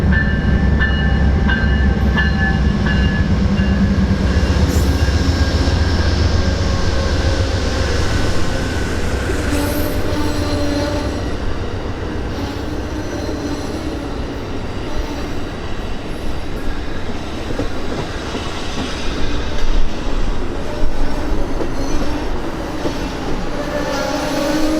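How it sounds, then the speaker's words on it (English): Westbound Amtrak 3 passenger train pulls into Las Vegas station, a loud, close rumble of railcars with wheel squeal and rhythmic clacking over rail joints, steady for nearly half a minute with no talk. "we caught westbound Amtrak 3 making an on-time arrival at Las Vegas under clear blue skies."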